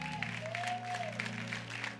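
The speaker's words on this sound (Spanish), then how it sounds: "Den un fuerte aplauso al Rey de Reyes" A church congregation claps for the King of Kings, a moderate wash of applause running throughout beneath a sustained low organ-like tone and a brief gliding musical note.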